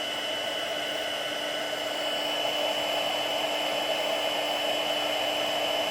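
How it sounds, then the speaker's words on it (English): A heat tool blows steadily on embossing powder on a stamped card, giving a constant close whooshing hiss of hot air that runs unbroken throughout with no talk. "as it changes, you can just follow along with your heat tool."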